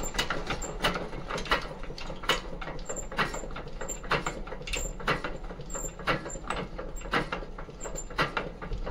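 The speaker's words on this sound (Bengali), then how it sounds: "নজলটিকে আমি প্রেসার পাইপের মুখে সেট করে নিচ্ছি এবং ইঞ্জিনটি ঘোরাচ্ছি, যাতে আপনাদের দেখাতে পারি কীভাবে নজলটি স্প্রে করছে" A Changfa 1115 power tiller diesel engine, its injector nozzle fitted to the pressure pipe, is turned over by hand, giving a faint, regular series of mechanical clicks and ticks at roughly two per second.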